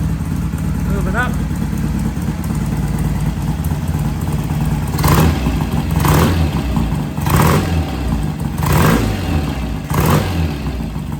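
A vintage British motorcycle engine idles steadily up close, with a regular mechanical rumble and clatter, then is blipped in a series of short revs; someone speaks over it at times.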